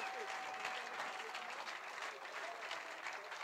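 Audience applause at a live fishing competition weigh-in on stage, steady dense clapping from a crowd throughout, moderately loud and continuous.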